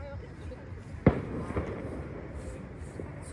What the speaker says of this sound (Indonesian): Masih ada petasan.